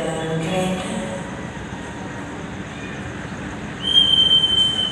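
A Progo train sits at a station platform during boarding, giving a steady mechanical rumble with a faint voice early on and a high metallic squeal or whistle rising near the end.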